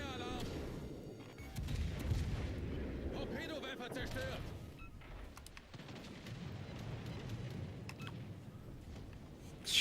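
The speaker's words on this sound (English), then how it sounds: "900 damage on that AP bomb drop" Armor-piercing bomb drop explosions in a naval warship video game, heard as rumbling, booming blasts and gunfire that stay loud and continuous throughout, with game effects layered over a low roar.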